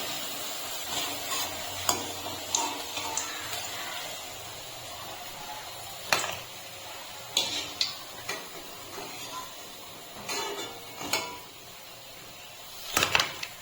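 Onion flower pakoras frying in oil, a constant crackling sizzle nearby with scattered sharp taps and scrapes from a utensil.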